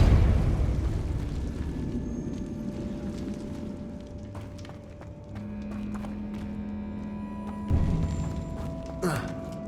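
Depulso spell cast in Hogwarts Legacy: a sharp magical burst and whoosh that rises out of rumbling game ambience, followed by a second, shorter pop near the end.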